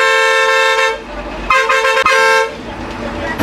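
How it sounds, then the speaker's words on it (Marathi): A loud, blaring horn from an MSRTC state transport bus on an interstate run from Amravati through Melghat, sounding in long sustained blasts with short breaks, close and piercing over engine rumble. "गाडीला खतरनाक असा हॉर्न बसवला"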